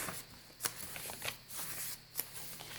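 A paper page of a softcover blue and green journal is unfolded, giving close crisp rustles and several sharp papery snaps over a few seconds, with no talk.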